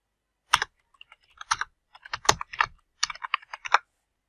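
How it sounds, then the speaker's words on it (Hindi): Close, crisp keystrokes on a computer keyboard come in short irregular bursts separated by brief pauses, as if typing a search phrase. "और यहाँ पे लिखें पाक उर्दू इंस्टॉलर।"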